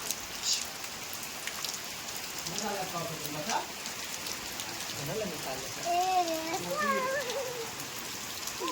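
Soft, steady patter of rain falling on surfaces, with a person speaking quietly over it at times.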